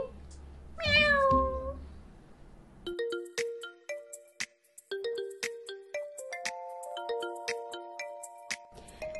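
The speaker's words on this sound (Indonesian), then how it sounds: "6 ekor kucing. Meow." A single high, drawn-out meow rings out, followed by a bright electronic chiming melody with repeated tones.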